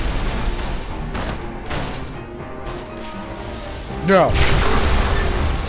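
Scarab gun blasts and explosions in the Halo 2 video game, heavy booming hits and crashes with a sweeping burst near the end, under excited shouting from a player.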